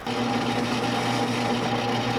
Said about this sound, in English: So I'm gonna drill out the lead from the front hole first.